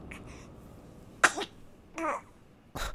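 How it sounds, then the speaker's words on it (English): A baby's coughs in the horror video game The Cat Lady, a few short separate bursts spaced across a quiet background, with faint babbling early on. "Damn coughs."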